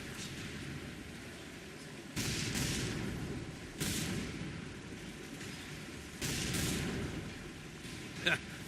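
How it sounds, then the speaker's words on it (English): Deep naval turret guns fire at a cargo hulk in the Battlestations Midway game, heavy booming salvos landing in three or four bursts over a constant low rumble of sea and engine noise. "Shoot that cargo hulk 5 times."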